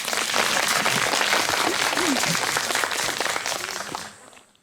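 An audience applauds at a youth writing contest panel event, a loud burst of dense clapping that holds steady before tapering off and fading at the end.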